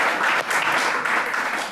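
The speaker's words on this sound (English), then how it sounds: "Round of applause, please, for James Loveridge." Audience applause for James Loveridge at a live Edinburgh Festival programme, a steady dense wash of clapping that fills the whole moment and fades slightly at the end.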